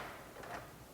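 A semi-automatic one-panel sliding interior door closes softly on its damper, a brief, faint slide and cushioned stop heard close by.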